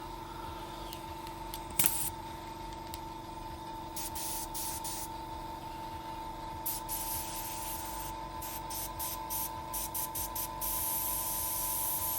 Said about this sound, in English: I'm just going to plug my airbrush compressor in.